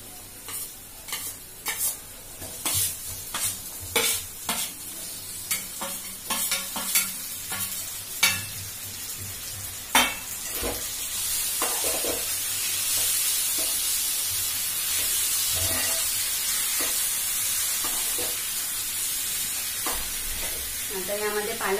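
Potatoes are tossed in a hot pan for a potato and spinach dish, first with a series of sharp scraping stirs and clacks, then settling into a steady, loud sizzle close by.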